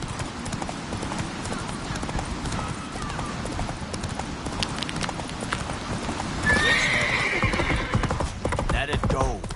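Roach, Geralt's horse in The Witcher game, gallops with a fast, steady clip-clop of hooves and lets out a loud whinny partway through, while characters' voices talk over the action.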